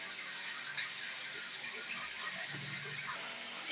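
Water runs steadily from an instant electric water heater tap, a soft continuous hiss of flow at the faucet, fairly quiet and uniform, with no talk.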